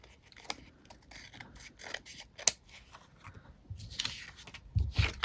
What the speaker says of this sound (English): I'm going to take and trim this a bit.